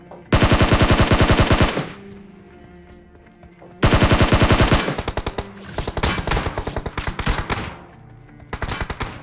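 Automatic gunfire in PUBG rattles out in long, loud close bursts of rapid shots, separated by short pauses, with a final quick burst near the end.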